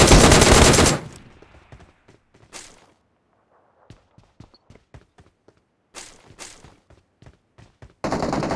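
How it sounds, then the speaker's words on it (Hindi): Gunfire in PUBG Mobile on the Livik map: a loud automatic burst opens, then scattered sharp single shots and short bursts at varying distances, and another heavy burst closes. "गोली चली है ना अभी?"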